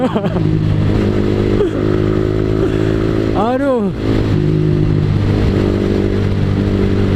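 A Kawasaki ZX-25R motorcycle engine drones continuously and loudly close by, with a brief rising and falling rev midway and a voice speaking over it.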